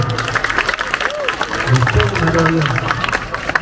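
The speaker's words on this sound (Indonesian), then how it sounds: "tepuk tangan dulu" Audience applause at a Balinese comedy performance in Mengwi, a dense crackling of many hands rising through the crowd with voices and chatter mixed in, moderately loud and close.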